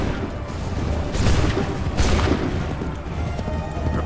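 Musket volley in Assassin's Creed III Remastered, two loud booming bursts of massed gunfire about a second apart over a rumbling battlefield din.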